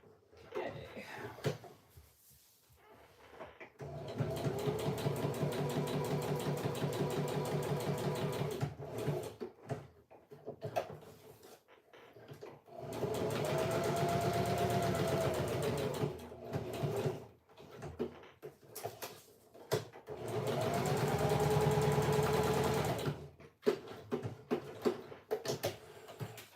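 Sewing machine running a single stitched line along the edge of a handmade card, close by: three sustained bursts of rapid mechanical whirring and needle clatter, separated by short pauses.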